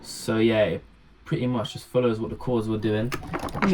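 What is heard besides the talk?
No everyday noise stands out behind the speech.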